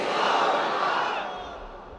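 A large crowd at a religious lecture roars a takbir response in unison, a loud dense swell of many voices that peaks early and fades away over two seconds.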